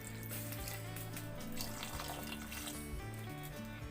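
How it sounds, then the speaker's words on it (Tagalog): Water poured from a tap into a cooking pot while making a simple home-cooked soup dish, a steady splashing gush running throughout, close and fairly loud. "Tapos konting tubig po para may sabaw po tayo."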